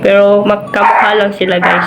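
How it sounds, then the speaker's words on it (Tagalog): A dog indoors gives a few short yips and barks in quick bursts, close and loud, mixed in with a person talking. "huwag nyo na itindihan yung ingay ng aso"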